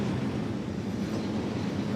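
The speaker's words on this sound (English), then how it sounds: "that's, that's a train up there." Train rumbling along an elevated track in Otaru in the morning, a steady, dense wash of wheel and rail noise that holds at constant loudness throughout, with no voices.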